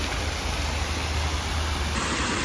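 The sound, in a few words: fountain cascading water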